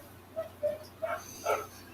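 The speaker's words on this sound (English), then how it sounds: "I'm sorry if you hear dogs barking in the background." Dogs barking in the background, four short, faint yips spaced about a quarter to half second apart, distant and alone with no voices.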